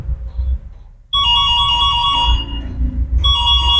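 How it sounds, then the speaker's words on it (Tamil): A Yadea electric scooter's anti-theft alarm sounds again, loud and close, a shrill electronic tone pattern starting after a brief pause, dropping briefly, then resuming. "செகண்ட் டைம் திரும்பி அலாம் அடிக்குது"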